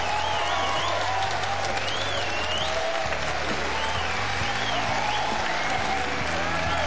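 A studio audience at a televised singing competition, The Voice of China, applauds in a steady, loud, sustained wash of clapping with some cheering and tonal sound faintly beneath.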